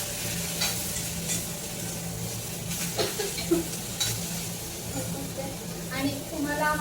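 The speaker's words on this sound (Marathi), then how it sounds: "इथे आता कांदा भाजते मी" Onion and garlic roasting in a pan while being stirred, a continuous close sizzle broken by scraping stir strokes and light clinks, with a person talking over it at times.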